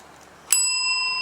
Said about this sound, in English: you walk into the old shop, the bell rings as we've just heard, and Yeah. you see Mistress Kirsten sitting